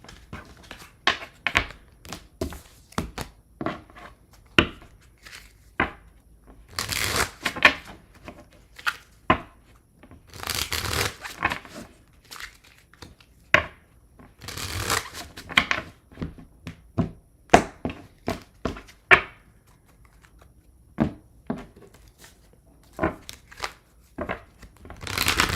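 Tarot cards are shuffled over and over in irregular bursts of crisp riffling and slapping, close up and alone, with short pauses between handfuls.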